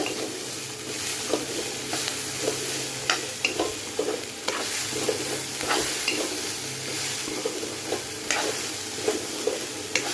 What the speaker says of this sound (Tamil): தேங்காய் ஆட் பண்ணி நல்லா மிக்ஸ் பண்ணி விடுங்க